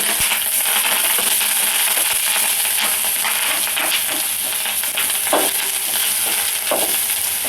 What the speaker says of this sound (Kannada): ಈ ಗೋಲ್ಡನ್ ಫ್ರೈ ಆಗಿರೋ ಈರುಳ್ಳಿಗೆ ಈ ಮೊಟ್ಟೆ ಎಲ್ಲ ಮೀನಿನ ಮೊಟ್ಟೆಗಳಿತ್ತಲ್ಲ